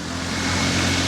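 A 6-wheeler off-road vehicle carries riders back up a hill at a hillside logging site, its engine a steady, continuous hum throughout, fairly close and unbroken, with no talk.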